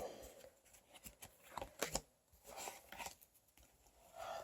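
Tarot cards are shuffled and drawn from a deck, giving a series of soft papery riffles, flicks and slides up close at an irregular pace, with no voices.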